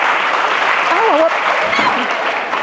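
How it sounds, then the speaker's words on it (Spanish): An audience at a live podcast taping breaks into loud, sustained applause, with clapping filling the space throughout and a few brief vocal cheers or whoops rising over it. "Un fuerte aplauso, por favor"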